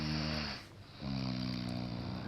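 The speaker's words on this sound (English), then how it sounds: "But the bear snores on." A bear's snoring in a read-aloud children's story, a loud, close, buzzing snore that rumbles, pauses briefly for a breath, then resumes.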